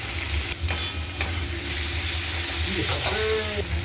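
A spiced masala of tomatoes, turmeric, chili powder, cumin and salt fries and gets stirred in a pan, a loud steady sizzle with utensil scrapes and a few sharp clanks against the pot.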